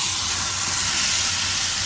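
Garlic sizzling in olive oil in a very hot cast iron skillet, a steady, close, even hiss and crackle running throughout with no talk.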